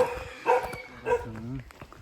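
A dog barks in a few short, moderately loud bursts at a Thai temple near a cave trail in Phu Toei National Park, with faint background noise between barks.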